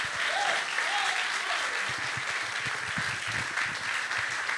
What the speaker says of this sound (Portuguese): Uma grande salva de palmas.